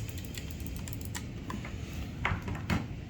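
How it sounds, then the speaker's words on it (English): Buttons and D-pad on a Razer Wolverine V2 game controller click sharply and irregularly, a few crisp taps over a steady low background hum. "The D-pad and the buttons are very clicky."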